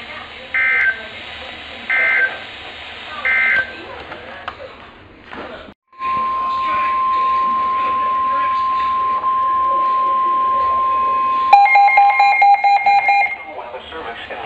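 Emergency Alert System tones for Hurricane Laura: three short, loud attention beeps, then a long steady single tone, later followed by a harsher two-tone alert blast, with broadcast audio underneath.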